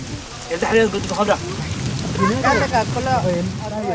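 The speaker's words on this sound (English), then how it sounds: "An hour later, the rains are here." Rain falls steadily during a Rendille new-moon ceremony of thanks and sacrifice, a soft, continuous patter beneath a voice that speaks over most of it.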